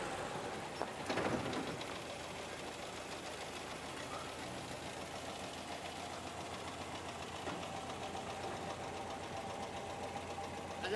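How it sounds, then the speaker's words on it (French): A car engine left running idles in a steady, low, fairly quiet rumble, with no one speaking. "Agent Boulotte, ne coupez pas le moteur."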